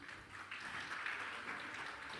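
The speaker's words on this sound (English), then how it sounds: "So a round of applause." Polite applause rises from the audience at a travel and tourism awards summit, a soft and fairly distant wash of clapping that holds steady for about two seconds.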